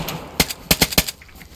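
Burst of gunfire in DayZ: one sharp shot followed by a rapid cluster of three or four more, close and fairly loud, no talk over it.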